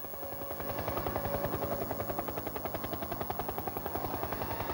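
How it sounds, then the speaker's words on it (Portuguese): Helicopter rotor blades beat overhead at the San Marino Grand Prix, a fast, even thumping pulse that holds steady and fairly loud with no voices over it. "É o barulho das pás ali do helicóptero."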